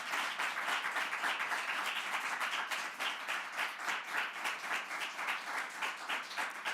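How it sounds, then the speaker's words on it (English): Sustained audience applause fills a room at a Gold Humanism Honor Society induction ceremony, many hands clapping in a dense, steady patter that stays loud and even throughout. "let's give them a round of applause."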